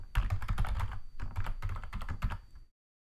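A password being typed on a computer keyboard during a remote VMware install through Dell iDRAC: a quick, steady burst of close key clicks for about two and a half seconds, then silence.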